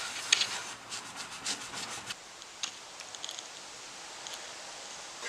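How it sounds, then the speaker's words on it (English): Hand sanding of a 1999–2004 Mustang headlight housing during a projector retrofit gives faint, quick scratchy rubbing strokes, busier at first and then thinning out, with no talk over them. "So to sand it, you just get it all up in there."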